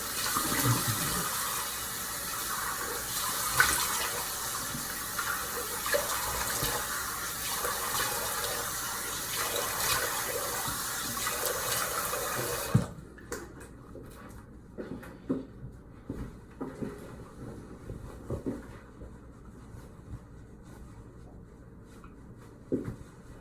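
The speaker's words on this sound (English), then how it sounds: "Let's get washed off real quick." Tap water runs steadily into a sink while washing off after a safety razor shave, a broad wash of flow for about half the clip that cuts off, leaving quieter dripping and small handling sounds.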